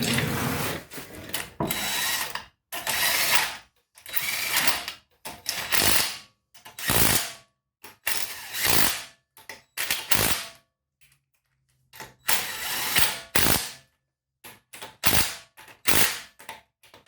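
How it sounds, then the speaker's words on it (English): A torque wrench tightens the wheel of a 2014–2018 Jeep Cherokee Trailhawk, heard as a series of sharp, loud clicks and ratcheting bursts in irregular clusters with short silent gaps between them. "I tighten it on the ground with a torque wrench"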